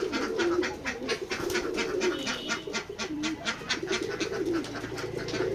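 Pigeons on a village pigeon farm coo together in overlapping, throbbing calls, a dense steady chorus with rapid wingbeat-like flutters and clatter around them.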